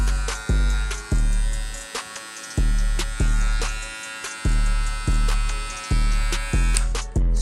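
Gamma+ skin balding clipper, a boosted motor model, buzzing close up with a strong steady hum that is switched on and off repeatedly in short bursts, each start giving a sharp click.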